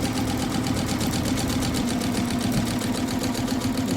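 An Usha 450E sewing machine stitches a design onto a sari, its fast, even mechanical whir running continuously and close up with no talk.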